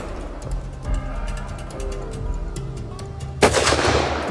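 Shotgun blasts ring out at a clay pigeon range where hunters practice on fast-moving discs, a few sharp reports echoing over low rumbling background, with one loud close shot near the end.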